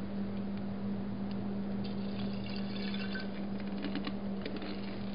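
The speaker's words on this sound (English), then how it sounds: "We're just gonna pour the muriatic acid in." Muriatic acid poured from a container into a vessel holding computer chips, a steady faint liquid trickle over a constant low hum, with no talking.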